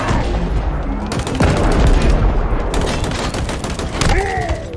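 Gunfire and weapon sounds from an Xbox video game trailer, dense bursts of shots and booms layered over loud music and effects, sustained and heavy throughout.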